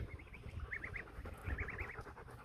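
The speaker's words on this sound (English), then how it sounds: "these are my two geese" Geese on a ranch honking in short clustered bursts of three or four calls, fairly close and moderately loud over a faint background murmur.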